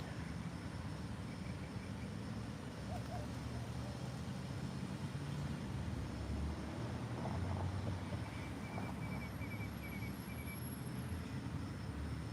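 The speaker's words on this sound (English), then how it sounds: "Is the traffic too loud for you?" Continuous road traffic noise beside a park with benches, a steady low rumble of passing vehicles that fills the background without talk.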